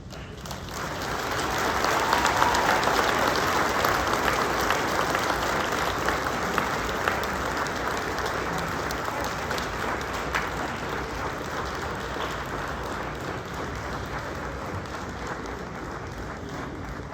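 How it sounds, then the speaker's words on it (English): A banquet audience at a motorsports Hall of Fame induction gives a Hall of Fame inductee a long, sustained round of applause, dense steady clapping filling the room for over fifteen seconds without talk. "Ron, please come and join me and accept the round of applause that you deserve."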